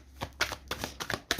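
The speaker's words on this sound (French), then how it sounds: "Je vais poser les 9 cartes donc, du tableau." Tarot cards are laid out one by one on a table, giving a quick series of about six or seven crisp, close slaps and flicks.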